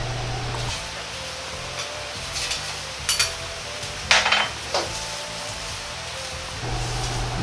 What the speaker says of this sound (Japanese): 鍋を傾け、生姜が油でパチパチとしてきたら